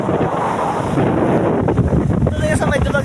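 Rough sea off the Dumaguete City boulevard seaside, with high waves rolling in and strong wind buffeting the microphone. The noise is continuous and fairly loud, with a brief faint voice near the end.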